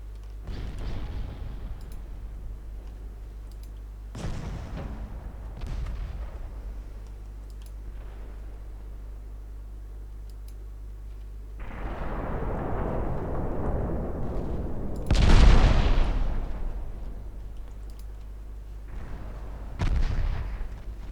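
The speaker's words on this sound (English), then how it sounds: "Looks like the rest of my torpedoes got blown up." Torpedoes explode in a naval warfare video game set in the North Sea, heard as several separate booming blasts spread over time, the strongest near the end, with soft clicking in between.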